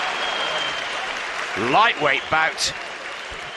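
A crowd at a professional boxing match applauds and cheers after a lightweight bout's opening round, a steady wash of distant clapping under a commentator's voice.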